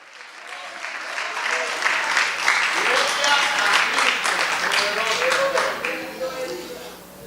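A church congregation applauds loudly for the Lord during a Spanish-language sermon, a dense, sustained wash of clapping lasting several seconds with voices mixed in before it tapers off.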